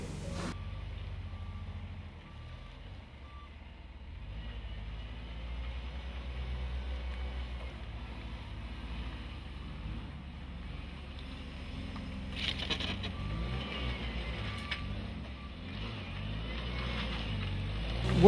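A JCB Teletruck telehandler backing into a tight bale loading area, its engine a steady low drone at moderate distance with faint mechanical clanks and rising revs near the end, no talking.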